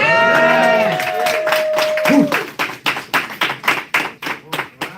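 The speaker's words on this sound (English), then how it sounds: "can we give him a round of applause?" A live audience breaks into applause after a voice speaks over a sustained tone, the claps building into loud, fairly rhythmic bursts near the listener.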